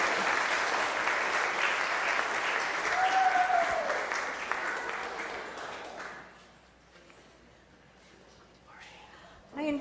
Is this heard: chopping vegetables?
no